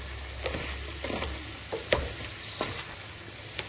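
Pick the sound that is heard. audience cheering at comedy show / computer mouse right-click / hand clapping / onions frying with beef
onions frying with beef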